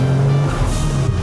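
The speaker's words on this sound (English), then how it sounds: "The turbo sounds great." Nissan 300ZX turbocharged engine under way, a steady low droning hum with road and wind noise, loud and continuous with no talk.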